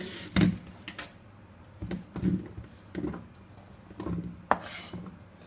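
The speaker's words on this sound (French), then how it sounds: "on remet tout ça dans la passoire" Food being put back into a colander, a series of close scraping, clattering knocks of utensils against metal and dishes, irregular and spaced about a second apart, with no talk.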